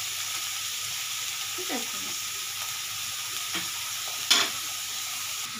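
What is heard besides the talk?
frying in oil while making ghugni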